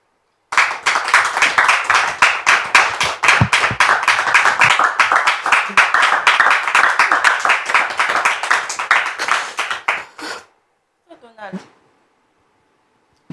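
An audience at a church service claps together in a fast, steady run of rhythmic hand claps to welcome an arriving guest, loud and close, then stops abruptly, followed by a short voice.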